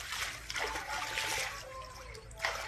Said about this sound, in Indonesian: Ada segerombolan sapi yang menyeberangi atau berjalan di tengah Sungai Kapuas.